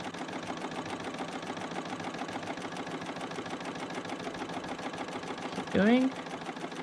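A Bernina L890 overlocker stitching fabric bunting pieces, running with a fast, steady mechanical whir and rapid needle chatter throughout, while a person speaks briefly near the end.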